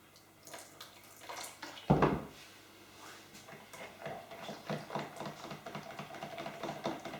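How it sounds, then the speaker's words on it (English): Boiling water poured from a kettle into a bowl for a summer trifle, a close gurgling, splashing stream that starts with a sharp burst and continues in uneven trickles and bubbles. "pour boiling water onto it"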